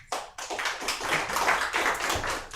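An audience at an improv comedy show claps together, a dense, steady patter of many hands lasting a couple of seconds, fairly close and even, with no talking over it.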